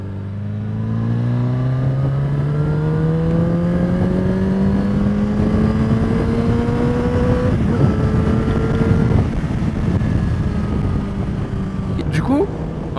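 Yamaha XJ6 Diversion F motorcycle engine while riding, revving up smoothly with rising pitch through a long pull, loud and close with wind rush, then easing off near the end.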